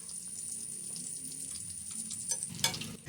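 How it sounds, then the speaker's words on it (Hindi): Bread-and-potato donuts fry in hot oil with a steady close sizzle, and a spoon or spatula clinks against the pan near the end. "डोनट्स को फ्राई करेंगे।"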